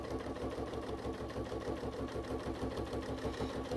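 A standard domestic sewing machine runs steadily and close by, its needle mechanism giving a fast, even mechanical thrum with a rhythmic pulse throughout, no voices.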